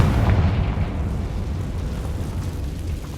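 A Confringo spell blast in Hogwarts Legacy, one loud booming explosion at the start that rolls into a fading rumble, with no voices.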